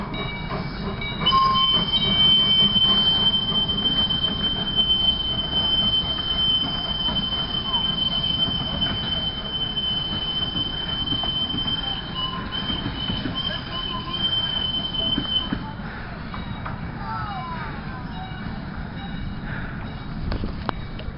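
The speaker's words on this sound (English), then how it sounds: "That is the sorriest sounding whistle I've ever heard on a train." A train rolls by in Canada with a steady rumble and wheel noise, while its weak, thin, sustained high whistle tone runs for about fifteen seconds before fading.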